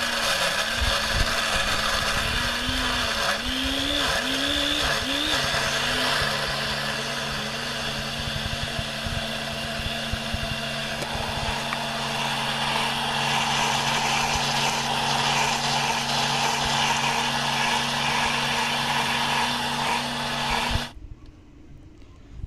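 Electric blender grinding carrots with milk into a paste, a loud steady motor whine with pitch wobbling early on as the load shifts, running continuously until it abruptly cuts off near the end.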